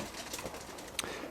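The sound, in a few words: young roller pigeons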